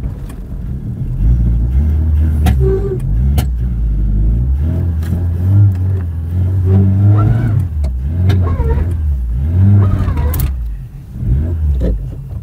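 An old barn-find Ford Escort Mk3, parked since 1993, runs with its engine rumbling steadily on choke and rising in several uneven revs, loud and close throughout.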